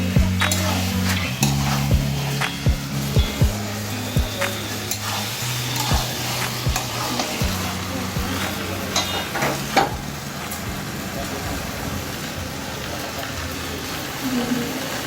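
Chicken curry is stirred in a pot, close rhythmic scraping and knocks of a spoon against the metal over a continuous bubbling sizzle, with a low hum running underneath.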